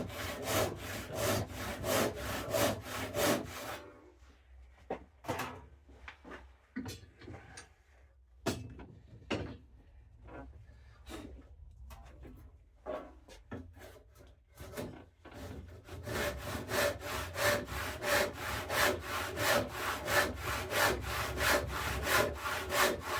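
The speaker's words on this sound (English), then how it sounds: "The kerf on these teeth is quite wide, so it gives you a lot of ability to steer the cut" Hand saw with wide-kerf teeth cutting through wood at a workbench: steady rhythmic back-and-forth strokes up close, briefly easing into a sparser patch of scrapes before resuming a dense, even sawing rhythm.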